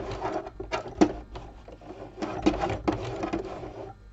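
A sewing machine zigzag-stitches over a bar during free motion cut-work embroidery, running in short loud bursts with clattering pauses between them, close and alone.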